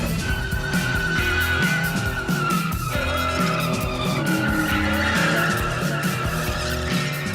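A car doing a burnout gives off loud, sustained tyre squeal and skidding over a revving engine, continuous and close throughout.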